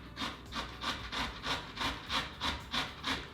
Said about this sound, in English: Don't go crazy on your grating.